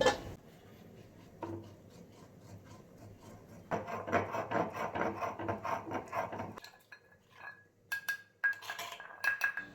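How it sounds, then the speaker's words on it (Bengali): Spice paste ground for a Bengali prawn and Malabar spinach (pui shak) curry, heard as steady rhythmic rasping and rubbing strokes on a grinding stone, loudest in the middle, followed by a few clinks of utensils. "আবারও এটাকে ঢেকে রেখে দিয়ে আমি এবার মশলাটা বেটে নেব"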